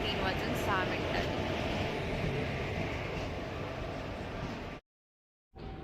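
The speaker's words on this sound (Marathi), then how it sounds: "फायनली आपली मंगलोर एक्सप्रेस आलेली आहे." Mangalore Express passenger train pulling into Kankavli station, a loud, steady rumble and hiss of wheels and carriages close by with a faint voice, cutting out abruptly near the end before returning briefly.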